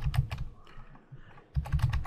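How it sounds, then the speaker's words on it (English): Computer keyboard keys pressed in quick bursts while working in an Excel spreadsheet, entering an Alt Enter line break; two clusters of close, crisp typing clicks separated by a brief quiet pause. "after Excel I'm going to press an Alt Enter and then type Rush or whatever you want"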